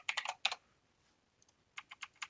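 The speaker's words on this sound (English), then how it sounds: "if I hit the right arrow, yeah, the right arrow on my keyboard" Arrow keys on a computer keyboard pressed in two quick bursts of crisp clicks, close and fairly quiet, with a short pause between the groups.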